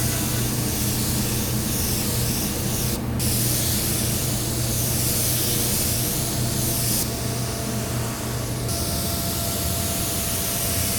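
Spray gun laying down Upol 2253 primer surfacer mixed with activator and urethane reducer on a car, a steady, loud, continuous hiss of atomized spray with brief pauses between passes and no talking.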